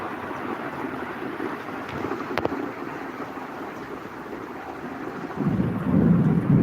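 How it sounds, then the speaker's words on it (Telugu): Thunder rumbling through heavy rain in Kakinada, a steady wash of rainfall and wind with low rolling rumbles that swell louder near the end, no voices present. "చూసారండి ఉరుములు ఎలా మునుగుతుందో బులోమని ఉరిమేస్తుందో"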